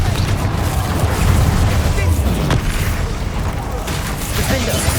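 Booming fire-spell explosion from the Hogwarts Legacy video game, a dense loud blast with rumbling low end sustained through the clip amid battle effects.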